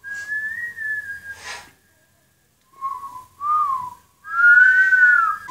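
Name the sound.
whistled melody at the start of a music video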